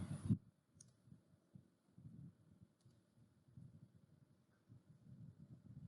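Mouse clicks advancing a slide animation: one loud click at the start, then faint scattered clicks over low background rumble.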